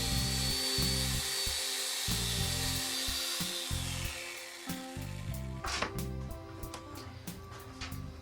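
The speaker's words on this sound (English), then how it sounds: "An electric chainsaw can be used to bullnose corners around the windows" An electric chainsaw cuts into straw bale walls, shaping rounded window corners and levelling the sides. It makes a loud, sustained buzzing whine that shifts to rougher, scratchier cutting noise toward the end.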